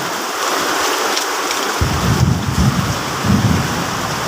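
Steady heavy rain hisses across surfaces, joined partway by a low rolling rumble like distant thunder.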